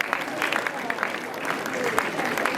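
A school audience claps for a senior high maths quiz team after a correct answer, a steady patter of hands throughout with a voice or two faintly mixed in.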